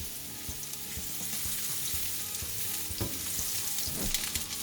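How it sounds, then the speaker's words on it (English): Mushrooms sautéing in a pan for a creamy Parmesan chicken dish give a loud, steady sizzle with a few stirring scrapes near the end, no voices. "Now we add the mushrooms"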